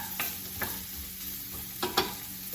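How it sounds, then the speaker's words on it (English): Chopped onion and carrots saute in oil, a steady sizzle broken by several scraping strokes of a spoon stirring the pan, close and fairly loud with no voices. "I don't want to caramelize the onion or the carrots necessarily. I just want to saute them."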